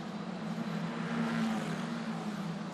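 Italian F4 race cars at Mugello cross the line, a steady distant engine drone holding at one pitch, swelling slightly mid-pass and then fading a little.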